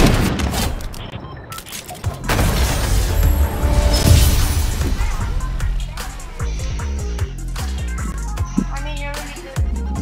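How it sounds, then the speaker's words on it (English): Loud video game gunfire in sharp bursts and rapid shots with booms, including a sniper rifle shot, close and dense across the whole stretch, with some talk underneath. "that was a nice sniper shot"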